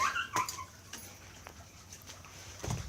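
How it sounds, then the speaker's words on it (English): A dog whimpers in short, faint bursts indoors, with a few soft high squeaks and light pattering scattered across the moment and a louder thump near the end. "Dogs!"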